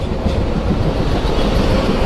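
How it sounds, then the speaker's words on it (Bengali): A train runs at speed between Faridpur and Bhanga, a loud continuous rumble and rattle of wheels on track with no voices, close and steady. "কোন ট্রেনের ভিতরে প্রচন্ড প্রচণ্ড গতিতে চলতেছে ট্রেন"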